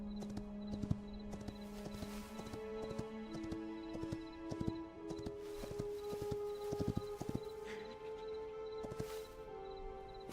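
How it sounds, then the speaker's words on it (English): Hoofbeats of a skeleton horse in Hytale clatter in a steady clip-clop rhythm against a busy bed of game music and effects, with no talking. "So this is presumably going to be a skeleton horse"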